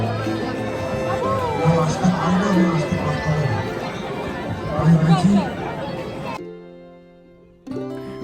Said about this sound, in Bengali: শুরুর দিকটা এত ভিড় যে দাঁড়ানোই যাচ্ছে না